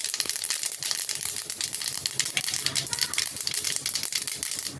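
White mustard seeds, a dried chili and a bay leaf crackle and spit in a spoonful of hot oil, a dense run of sharp, rattling pops and sizzle held steady and close throughout.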